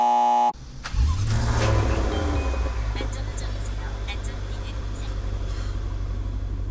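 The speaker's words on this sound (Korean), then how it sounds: "시동 걸 때 이 소리가 예사롭지가 않은데" A Maserati Levante GTS with a 550-horsepower V8 fires up after a brief quiet moment, settling into a loud, steady idle rumble close by.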